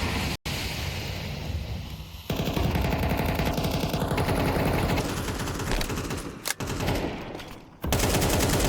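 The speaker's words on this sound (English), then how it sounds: "Finds the headshot with his A4." Rapid M4A4 rifle fire in a Counter-Strike 2 match, close and loud automatic bursts with brief pauses between them.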